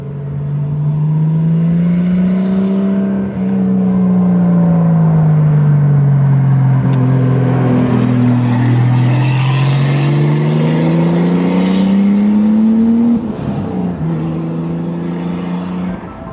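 A 500 HP Toyota Supra MK3 with a 7MGTE engine revs with its electronic stainless exhaust cutout open to straight pipe, a loud, close, continuous rasp rising and falling through several sustained revs before easing off.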